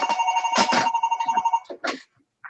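Indoor telephone ringing in a trilling electronic pattern, loud and near, cut off after about two seconds with a short trailing blip.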